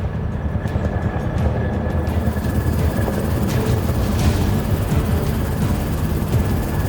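A helicopter in the Roblox video game flies overhead with a steady, loud whirring engine drone and rotor noise that continues throughout, with no voices.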